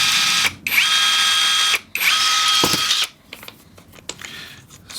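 Pop rivet gun setting a rivet in a workshop, three loud, close ratcheting squeezes of the tool, each a dense mechanical burst broken by short pauses, followed by quieter clicks and handling noise.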